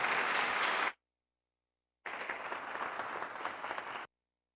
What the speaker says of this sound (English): let's give Charla a round of applause to welcome her for the evening